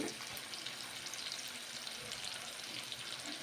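Bitter gourd curry simmers in a pan, producing a faint, continuous hiss and gentle bubbling heard from close by with no voices.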